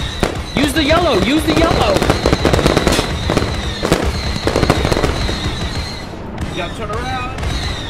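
Rapid anti-aircraft fire from a tank in a Star Wars Battlefront squad game on Rhen Var, a dense, loud crackling barrage of shots and booms under excited shouting from several players.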